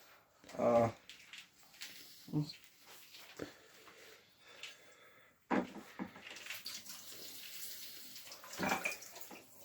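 Water sloshes and splashes in bursts as black peas are rinsed and shaken, with pauses of dripping and handling between.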